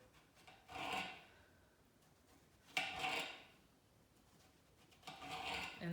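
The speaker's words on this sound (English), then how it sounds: "Cut up some slices." A knife slicing through a loaf for Ukrainian kanapky open-faced sandwiches, heard as three separate rasping strokes spaced a couple of seconds apart, close and moderately loud with quiet pauses between.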